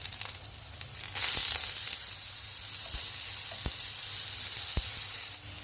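Slices of eggplant fry in hot oil with a loud, steady sizzle and spitting crackle that swells once they go in, with a few sharp taps of a utensil against the pan and no speech.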